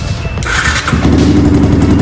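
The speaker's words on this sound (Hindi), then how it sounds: "मैं बाइक का रिस्पांस बताता हूँ कि एक सेल्फ में क्या बाइक स्टार्ट होती है कि नहीं" A modified Yamaha R15 V2 motorcycle with reworked wiring fires up on a single press of the electric self-start: a short whirring crank, then the engine catches and settles into a steady, close mid-pitched running note.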